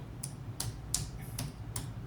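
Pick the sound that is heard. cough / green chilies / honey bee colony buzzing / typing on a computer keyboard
typing on a computer keyboard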